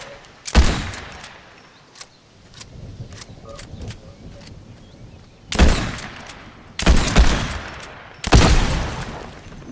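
Gunfire in the Fortnite video game: several loud, sharp bursts of shots, one early, then three close together near the end, with fainter distant pops and a steady low rumble between them.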